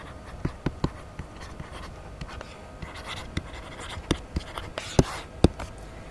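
Pen or pencil writing on paper in a physics classroom, a series of sharp scratchy taps and strokes spread irregularly over a quiet room background, with no talking.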